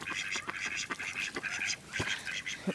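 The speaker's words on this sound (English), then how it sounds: "let's see if one of the ducks wants to say bye" Mallard ducks quack in rapid, raspy bursts nearby, a busy overlapping chatter of several calls.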